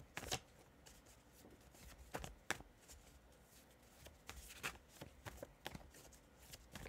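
Tarot cards are shuffled softly and close up, a series of quick riffling snaps and flicks in an irregular rhythm against a quiet room.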